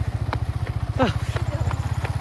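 A motorcycle engine runs in second gear with a learner rider, throbbing in a steady fast pulse close by, while a voice briefly calls out over it.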